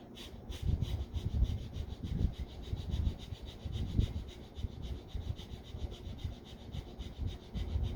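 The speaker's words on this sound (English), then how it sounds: "you're gonna do breath of fire" A person doing rapid yoga breath of fire, lying with the legs lifted slightly off the floor: quick, forceful rhythmic exhales pulse steadily and close up, with no talking.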